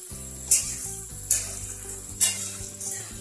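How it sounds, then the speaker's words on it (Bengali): Cabbage and other vegetables fry in oil with panch phoron, dried red chillies and bay leaves, a soft close sizzle punctuated by three or four sharp spatula scrapes about a second apart as they are stirred. "আমি সবজিগুলো দিয়ে দিয়েছি এরপর নেড়ে নেবো"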